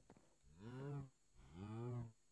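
Cattle moo twice in a row in the video game Minecraft, two drawn-out lowing calls close by with a short pause between them.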